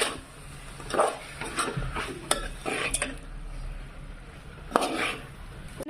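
A spoon scrapes and clinks around a pan as chilli powder is stirred into chicken curry, several distinct clatters over a soft sizzle, close and fairly quiet.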